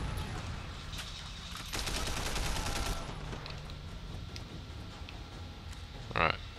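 Video game gunfire in Sleeping Dogs, with a sustained burst of rapid automatic shots, scattered single cracks and a sharp volley near the end, heard close over background game sound.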